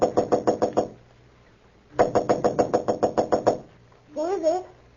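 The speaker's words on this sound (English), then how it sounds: "Clark Kent was about to knock at the door" Knuckles rapping on a hotel room door at the Marlboro Hotel in a Superman radio drama, two quick bursts of sharp knocks separated by a pause, then a brief muffled voice answering.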